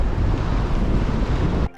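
Strong near-gale wind roars across the microphone while sailing through waves, a dense, loud rumble and rush that holds steady and then cuts off abruptly at the end.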